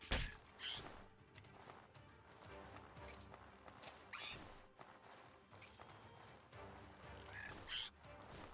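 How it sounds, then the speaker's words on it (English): In the game Outward, a bird caws a few times at moderate distance, the harsh calls spaced irregularly over quiet ambience and soft hoof-like steps. "Stop it, bird."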